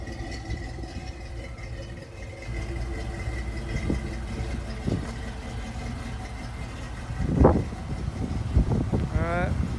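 A 1970 Ford Bronco idles steadily at close range, its exhaust rumbling from the tailpipes in a low, continuous drone, with a few louder bumps and a brief rise near the end.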